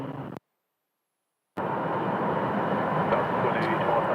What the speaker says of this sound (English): we're going to see Southwest landing from Albuquerque, New Mexico